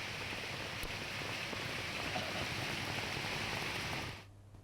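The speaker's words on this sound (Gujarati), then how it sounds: "પહાડી પ્રદેશમાં વાતાવરણ પલટાતા ત્યાં કરા સાથેનો વરસાદ વરસ્યો" Rain with hail in Shimla, Himachal Pradesh, pours down as a steady, even hiss, then cuts off abruptly near the end.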